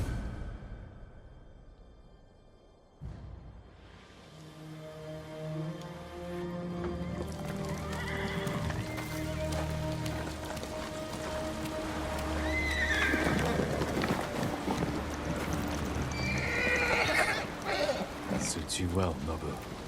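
Nobu, a horse wearing armor in Ghost of Tsushima on Iki Island, whinnies loudly and stamps its hooves amid rain and outdoor ambience, with voices at times.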